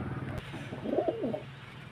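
A Teddy pigeon, one of a pair shown for sale, gives a soft, low coo that rises and falls once over a faint steady background hum.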